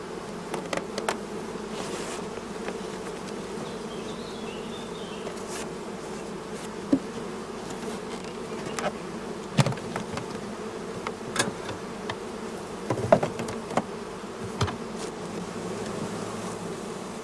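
Honeybees buzz steadily around brood frames at a hive, a soft continuous hum with occasional closer insects passing by, no voices.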